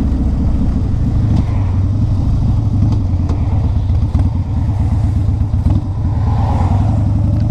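A 2002 Harley-Davidson Low Rider's V-twin idles close by with a deep, loping rumble and steady uneven potato-potato pulses. The engine note stays even for the whole stretch, with no voices.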